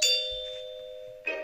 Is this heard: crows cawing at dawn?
no